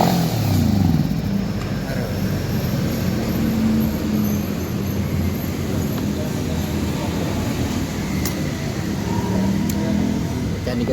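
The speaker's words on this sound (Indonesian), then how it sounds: "Ini motor Kawasaki Ninja 250 karbu." A carbureted Kawasaki Ninja 250R engine running close by, a continuous rough rumbling idle with slight rises in revs, steady throughout with no talk.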